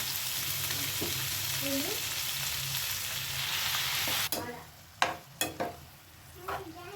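Amaranth leaves fry in a pan, a low steady sizzle at first, then louder sharp clatters and scraping stirs in the second half.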